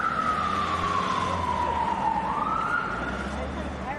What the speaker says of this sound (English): making liberal use of blue lights and quad sound sirens